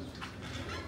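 Homing pigeons give a brief, low, breathy coo in a quiet loft, faint and close, with no talking over it.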